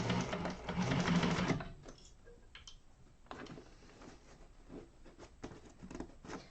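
Sewing machine stitching a bound bowler bag, one loud close burst of rapid stitching at the start followed by quieter intermittent ticks and handling clicks, without speech.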